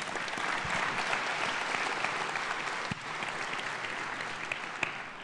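An audience claps in a steady, dense burst of applause that tapers slightly toward the end.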